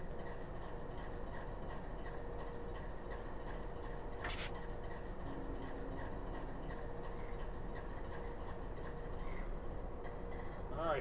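Freight train approaching in the Run 8 train simulator game, a steady low rumble of rolling wagons with a sustained horn-like tone and a brief sharp burst partway through, fairly quiet and continuous.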